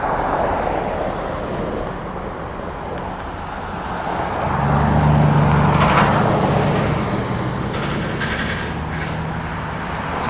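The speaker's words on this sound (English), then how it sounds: "There's a lot of cars coming" Cars pass a cyclist riding through city traffic toward a bike lane on Arsenal, a steady whoosh of wind over the microphone with a louder vehicle swelling past midway, then more traffic rumbling by.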